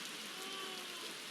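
Steady rain falls at a beach, a soft, even hiss of drops spread across the whole moment with no break, fairly faint and without any voices.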